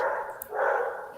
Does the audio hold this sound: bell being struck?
no